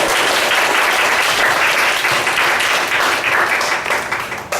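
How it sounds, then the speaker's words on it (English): Toastmasters club audience applauds a member coming forward to speak on the evening's theme of high school days, steady dense clapping filling the room for several seconds before tapering slightly at the end. "So please give him a big applause."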